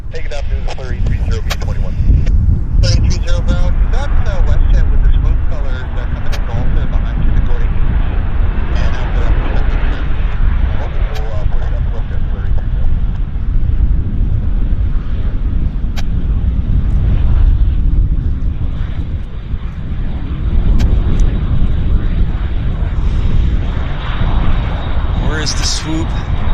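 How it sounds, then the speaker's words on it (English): A WestJet airliner in Swoop colours passes at Vancouver airport, a steady broadband engine roar mixed with wind buffeting on the microphone, with people talking over it throughout. "That's WestJet with the swoop colors coming"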